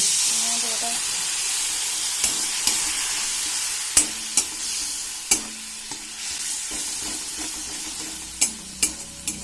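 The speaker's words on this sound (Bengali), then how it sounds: "তো আমি এখানে মশলাটা কষার জন্য সামান্য একটু জল দিয়ে দেব" Masala for a village-style kundru (ivy gourd) dish sizzling hard in a pan after a splash of water is added, a loud steady hiss of frying broken by sharp scrapes and clicks of stirring.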